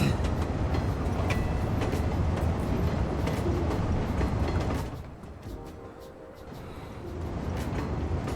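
A train rolls past in the Cities: Skylines II city-building game, a dense steady rumble with faint rhythmic clatter that drops away midway, then swells back toward the end, with no talk.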